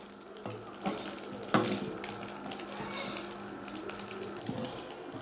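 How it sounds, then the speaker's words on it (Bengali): An egg fries in a pan with a soft, quiet sizzle, broken by a few clinks of utensils and some faint stirring and water sounds. "এই যেমন বাংলা ডিম ভাজা"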